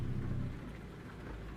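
Rain falling steadily with a low rumble of thunder in American Truck Simulator, heard from inside a truck cab on a drive from Yuma, Arizona to Carson City, Nevada; a deep roll fades early and the downpour continues.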